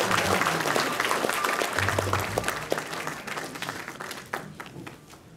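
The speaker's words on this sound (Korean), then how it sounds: "큰 박수 부탁드리겠습니다" An audience at a provincial governor's briefing session in Jecheon applauds during a welcome bouquet presentation, with moderately loud, steady clapping that thins toward the end.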